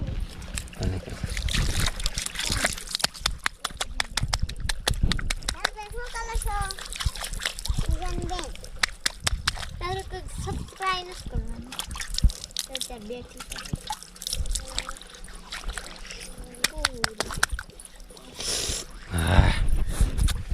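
Water poured over a freshly washed stone splashes and drips close by, largely buried under almost continuous nearby talking, with a brief louder splash near the end.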